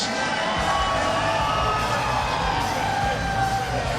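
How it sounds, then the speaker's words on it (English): A loud crowd at a fight night event cheers and shouts continuously, with whoops and yells blending into a dense roar that holds steady throughout. "Give them a round of applause"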